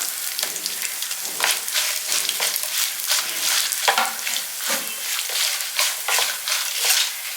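Garlic and chopped tamarind frying over a low flame for kuzhambu, a dense crackling sizzle with repeated stirring scrapes that keeps up the whole time.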